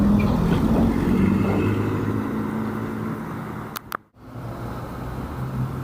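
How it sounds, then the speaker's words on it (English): A modified car passes by at an outlaw car meet, its engine droning as it goes past and fades out with a brief click near the end, then a quieter background rumble follows, with no talk. "here's the first couple of cars coming in"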